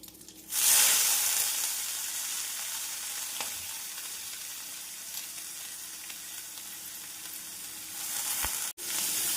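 Squeezed grated radish drops into hot tempering oil with curry leaves for a radish chutney, setting off a sudden loud, close sizzle that holds as a steady hiss with faint crackles for several seconds.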